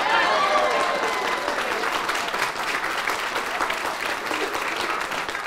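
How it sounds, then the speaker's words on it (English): An audience applauds steadily at a local TV show taping, a loud wash of many hands clapping with a brief tone and a few voices near the start. "Round of applause."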